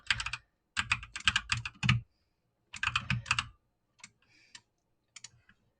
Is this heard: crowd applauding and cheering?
no